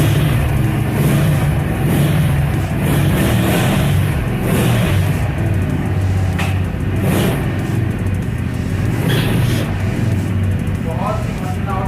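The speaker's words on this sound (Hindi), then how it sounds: "1 क्लिक पे बाइक स्टार्ट हो रही है।" An Overdrive Raptor Gen-3 250cc V-twin motorcycle starts and revs, a loud close engine rumble with repeated throttle blips throughout.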